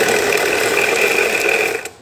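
A blender purees broccoli with a loud, steady, close-up whirring roar that holds for nearly two seconds before cutting off abruptly.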